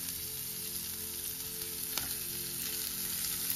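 Yellow bell pepper sautéing in a pan produces a soft, even frying hiss throughout, with a single faint utensil tap partway in and no voices.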